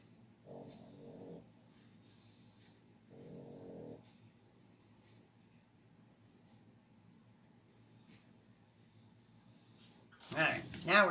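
A pug snorts and snuffles in two short bursts through a quiet room, then gives a louder, closer snort at the end; faint background hum runs throughout.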